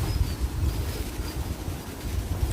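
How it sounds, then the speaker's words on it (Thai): A strong, cold winter wind blows steadily across a mountaintop where a hammock is strung, roaring and buffeting the microphone with a dense, continuous low rumble and no talk. "ลมสนั่นครับ ลมพัดแรง"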